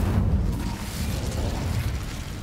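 A fire spell blast goes off in a video game, a loud, roaring rumble with heavy low booms that holds for a couple of seconds without letting up.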